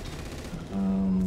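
LRM missiles fire at a turret in MechWarrior 5, a quick rattling burst of launches followed by a sustained low droning tone, loud and close with no talk.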